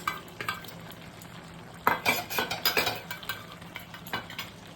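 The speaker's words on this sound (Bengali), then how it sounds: "এতে মেথি আর ঘিয়ের ওপর মেথি আর তেজপাতা ফোড়ন দিয়েছি" Fenugreek and bay leaf tempering sizzling in ghee for a mixed vegetable navratan curry, a crackling fry that swells into bursts of loud sputtering with spatula scrapes and stirring, close by.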